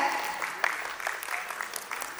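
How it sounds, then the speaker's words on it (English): An audience claps for a lecturer at a medical talk, a steady wash of applause of moderate loudness with a few sharper claps and a faint voice underneath. "Give him a big clap."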